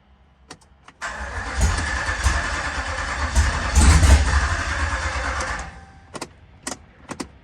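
A 2013 Dodge Ram single cab fitted with a swapped TRX supercharger cranks hard for about four seconds, a loud churning starter-and-engine roar that cuts off, followed by a few sharp clicks and knocks.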